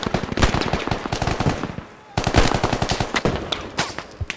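Automatic gunfire on the Afghanistan map of the Squad video game rattles in loud, close, rapid bursts that break off for a moment midway, then resume.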